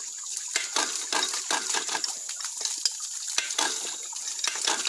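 A double acting ram water pump running on creek water throws out rapid, irregular splashy clatter with bright metallic ticks, and the busy wet sound holds steady throughout.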